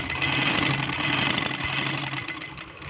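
A sewing machine stitches fabric in a steady, close mechanical hum for a few seconds, easing slightly toward the end, with no talking.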